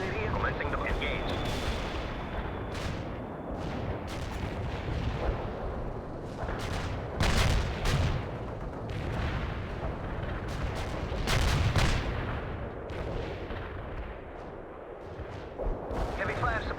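Heavy artillery barrage in the World in Conflict video game: dense, rumbling volleys of booming impacts one after another, loud and continuous, with radio-style voice chatter running beneath.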